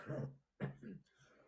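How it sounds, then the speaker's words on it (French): A single quiet cough bursts out, followed by a softer throat-clearing sound, close and brief during a church sermon. "Sorry, nous faisons tousser."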